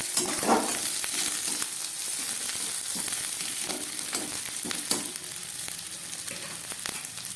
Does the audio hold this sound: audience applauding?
no